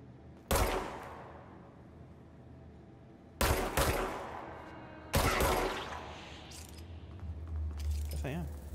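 Gunfire in the video game Control comes as three sharp, loud bursts spaced a few seconds apart, each decaying into a reverberant tail, followed by a low rumbling hum near the end.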